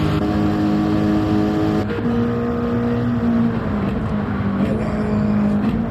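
Super GT race car engines in a sim racing game, a steady loud drone with harmonic whine as one car overtakes another early in the race, continuous and close with no talking.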